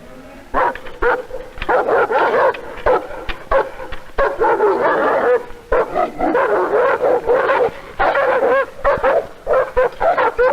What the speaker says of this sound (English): The dogs, our guard dogs live in cages, in dog houses.